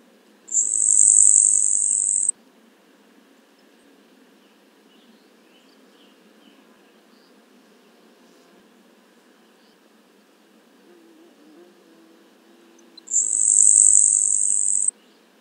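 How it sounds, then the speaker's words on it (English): Two high, thin insect-like buzzes from a grasshopper sparrow, recorded through a parabolic microphone about 350 feet away in a quiet setting, one at the start and one near the end, with a long quiet stretch of low hum between them. "and a grasshopper sparrow from 350 feet away."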